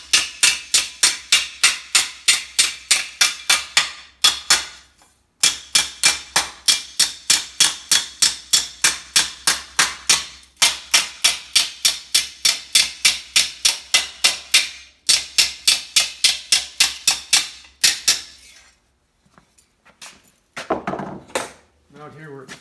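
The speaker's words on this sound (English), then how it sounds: "Out here where it's flatter, I can just use a flat face hammer." A flat face hammer strikes the sheet metal of a 1950 Chevy rear fender during shaping, with rapid, evenly spaced metallic blows in long runs and brief pauses, close and loud.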